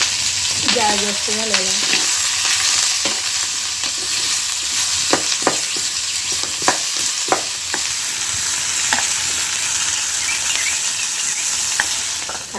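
Capsicum masala roasts in a hot pan with a steady sizzle while a spoon scrapes and knocks against the pan at irregular intervals. A voice briefly speaks near the start.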